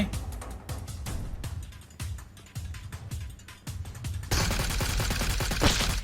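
Gunfire in the mobile battle-royale game PUBG Mobile: a string of sharp single shots at irregular intervals, then a sustained louder burst of rapid automatic fire near the end, with no talk over it.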